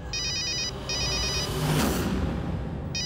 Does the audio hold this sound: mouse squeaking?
no